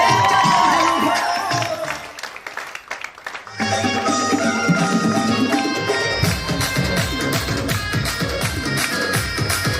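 An audience at a motivational business event claps and cheers loudly, a dense mix of applause, shouts and whoops with a brief dip before swelling again, with voices mixed in.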